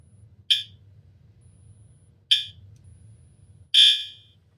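A fire alarm briefly connected to batteries gives three short, shrill electronic chirps spaced a second or two apart, each one clipped off abruptly, the last slightly longer, heard over a faint low rumble.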